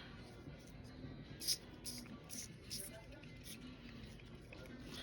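Several quick, faint spray bursts from an Art Anthology color spray bottle with a partly clogged nozzle, in an uneven series, short hissing puffs over a quiet background with soft handling noise.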